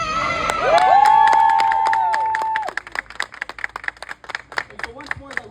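A rally crowd in Rhode Island erupts in loud cheering, whoops and applause, then settles into scattered clapping as a speaker's amplified voice continues over it.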